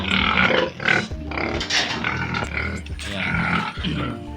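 Four farm pigs grunting up close, a run of deep, rough snorts and grunts in uneven bursts with short pauses between them.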